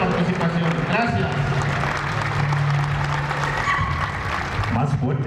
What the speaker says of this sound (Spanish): Más fuerte el aplauso